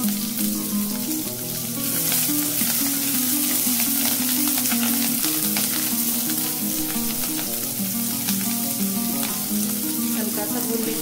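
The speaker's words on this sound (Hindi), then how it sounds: "ऑयल गर्म हो चुका है। अब हम इसमें ऐड करेंगे कि बिल्कुल छोटा सा एक प्याज लिया था" Finely chopped onion and a hot green chilli frying in heated oil, a steady close sizzle running throughout without a pause, loud and continuous.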